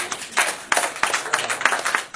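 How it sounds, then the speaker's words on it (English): A few people clapping briefly, with quick, uneven claps close by and no talking. "Please let's give her a clap."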